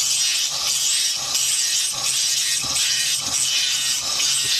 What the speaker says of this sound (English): gently shave off small bits of that chalcedony that I've notched already